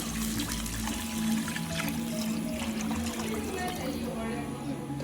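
Water is poured into a pot of rice for Kerala-style home-made beef biryani, about one and a half glasses per glass of rice, a steady nearby stream over a low background hum.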